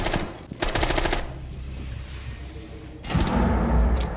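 Rapid automatic gunfire in the tactical shooter Rainbow Six Siege, loud close bursts of fast shots, a first burst followed by a pause and a heavier, deeper burst near the end, with no talk over it.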